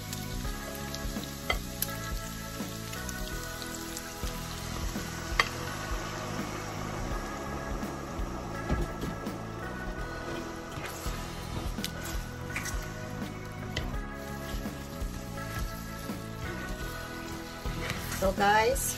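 Chicken pieces for teriyaki fry in a pan with a steady crackling sizzle and occasional stirring scrapes, close and continuous throughout, with a louder burst of sizzling near the end.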